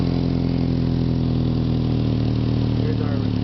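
Car engine idling after an exhaust repair, with a slight exhaust leak; a steady low rumble with even pulsing, close and constant, while a person talks over it.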